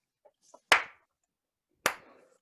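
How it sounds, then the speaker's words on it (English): Two loud, sharp hand claps spaced over a second apart, each with a short ringing tail, sound a deliberate slow clap in a quiet room after a few faint taps. "Slow clap for Robbie Furman."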